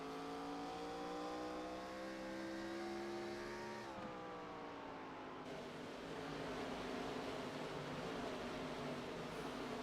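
A race car engine at Richmond Raceway holds a loud, steady harmonic drone, its pitch dipping and shifting midway as if the car passes or changes speed, with no voices in the mix.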